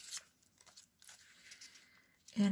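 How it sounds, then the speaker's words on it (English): Scissors cutting around a stiffened piece of paper for a handmade fairy journal: a few faint, close snips and crinkles spread across the clip, ending in a louder rustle, with no speech. "go around it with my scissors"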